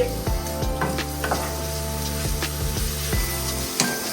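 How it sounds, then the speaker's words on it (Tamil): Onions sautéing in sesame oil for an Indian-style chicken dish, a steady loud sizzle with occasional stirring scrapes running throughout, no voices. "வெங்காயம் வதக்கப்படுகின்றது"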